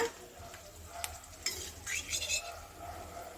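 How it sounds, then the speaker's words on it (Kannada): Dry fruits frying in hot ghee in a pan for poha kheer, a soft steady sizzle with a few light clinks of a spoon stirring against the metal. "ನಾವು ಹಾಕಿರೋ ಡ್ರೈ ಫ್ರೂಟ್ಸನ್ನ ತುಪ್ಪದಿಂದ ತೆಗೆದುಬಿಡೋಣ"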